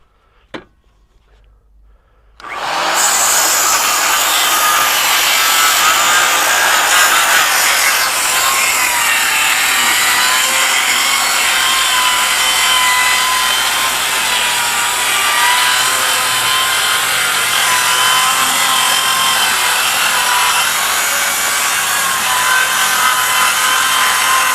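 A Milwaukee M18-powered saw fitted with an Irwin blade bites into wood after a short pause, then cuts steadily and loudly with a dense, continuous rasping whine that holds for about twenty seconds without easing.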